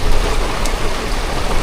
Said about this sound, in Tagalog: grabe talaga yung ulan, no? Walang tigil na ulan.